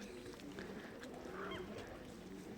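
A goose-like bird honks a few times amid faint background noise, the calls short and close.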